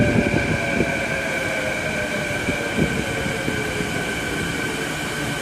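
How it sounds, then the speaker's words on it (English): A Vancouver SkyTrain pulls into an underground station platform, a loud continuous rolling roar with steady high electric whine tones and faint wheel squeals, filling the space close by with no talking. "Here comes the waterfront bus right now, or SkyTrain right now."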